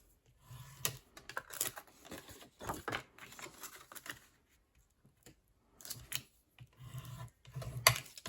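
Tool scoring fold lines one by one on a card, short scraping strokes in irregular bursts with pauses between them, close and quiet.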